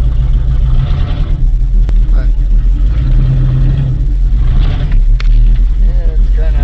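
Cold Chevy 3/4 ton 4x4 truck engine rumbling loud and close at a low idle, rising slightly as the truck strains to move while frozen into the ground.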